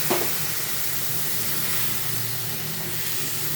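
Water poured onto okra cooking with spices in a hot pan sets off a loud, steady steaming hiss that holds evenly throughout, close and without talk.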